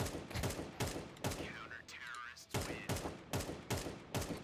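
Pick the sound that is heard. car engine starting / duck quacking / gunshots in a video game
gunshots in a video game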